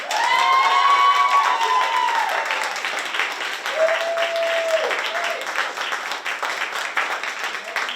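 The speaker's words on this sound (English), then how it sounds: "join me in giving them one more round of applause" A crowd claps steadily and loudly throughout, with cheers and whoops rising over the dense applause.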